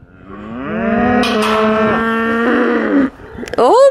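Cattle and a bull in a field on a walk near Bleadon give a long, loud, close moo lasting about three seconds, followed by a shorter rising call.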